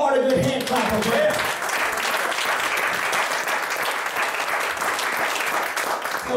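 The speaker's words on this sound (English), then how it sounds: "give the Lord a good hand clap of prayer" A church congregation claps and applauds in a dense, sustained wash of hand claps with scattered voices, loud and steady throughout.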